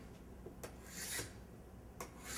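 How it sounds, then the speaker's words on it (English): Scraping dried glue off a laminated solid wood panel: a few short, rasping strokes of a scraper across the wood, close and quiet, with no talking. "Give it one last scrape."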